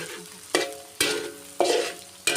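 Egg fried rice with carrot and onion stir-fried in a hot wok, with four sharp scraping stirs at regular intervals, each followed by a rising burst of close, loud sizzling that fades back down between strokes.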